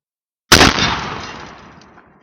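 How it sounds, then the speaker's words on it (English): Single loud shotgun blast from a Remington 870 fired at a steel plate, a sharp close crack followed by a long fading outdoor echo. "I'm going to go ahead and shoot at this piece of steel now."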